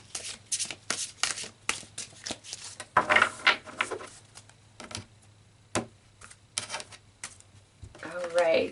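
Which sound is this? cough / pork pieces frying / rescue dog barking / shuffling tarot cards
shuffling tarot cards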